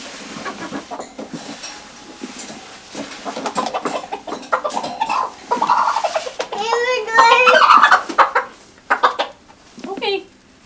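A broody hen on a homestead clucks and squawks in agitated bursts, loud and close, while a child and an adult talk over and between the calls.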